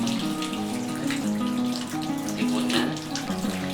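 Tap water runs steadily over cucumbers being washed while preparing an herbal remedy, a continuous splashing stream with music playing underneath.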